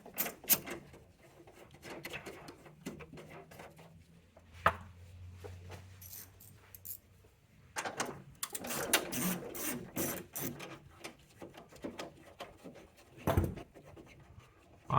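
A wrench loosens the 10mm nuts on a Chrysler 300 third brake light, with quiet intermittent ratcheting clicks and small mechanical rattles and scrapes, close but faint.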